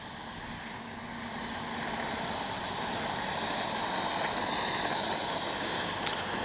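Steady broadband whoosh of an Arrows RC F-15 model jet with a 64mm ducted fan flying in wind, holding a continuous roar that swells slightly as it passes, with no voices.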